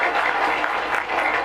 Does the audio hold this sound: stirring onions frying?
no